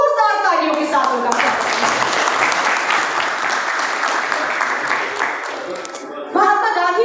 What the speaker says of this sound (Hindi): जोरदार तालियों के साथ होगा।